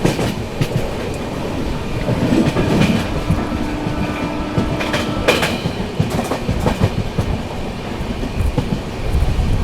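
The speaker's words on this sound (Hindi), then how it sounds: "फिलहाल दोस्तों ट्रेन अपनी स्किप कर रही है डीवीटी पल्ली।" The 12650 Karnataka Sampark Kranti Express rolls along at speed, heard loud and close from inside with a constant rumble, rhythmic clickety-clack of wheels over rail joints and occasional clanks.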